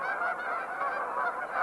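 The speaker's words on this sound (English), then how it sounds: "New arrivals, attracted by the hawkings of the geese already on the ground here, are landing among them." Geese honking continuously in a dense flock as new birds land among those already on the ground, a steady overlapping chorus of calls with no voices.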